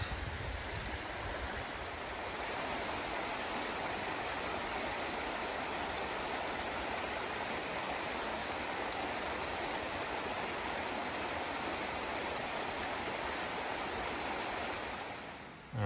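Close, steady rushing of stream water fills the whole stretch at an even level during a creek crossing in Linville Gorge while backpacking, with no voices heard.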